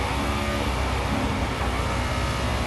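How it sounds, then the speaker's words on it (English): A parked Volkswagen car idles on a town street in Phuket, a steady low engine rumble heard close and continuous with a broad noisy hiss over it, with no voices. "As you can hear, the engine is still on."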